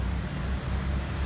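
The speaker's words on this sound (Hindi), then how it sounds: "बाहर शोर भी है और ना ट्रैफिक भी है" Outdoor street traffic in India makes a steady, loud wash of road rumble from passing vehicles, continuous throughout with no clear voices.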